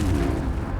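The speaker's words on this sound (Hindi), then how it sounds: "मतलब गोली चला दी उसने, मिसाइल चला दिया उसने।" Enemy gunfire in the video game Project IGI, a dense burst of loud shots and booms blending into a continuous rumbling roar with no talk over it.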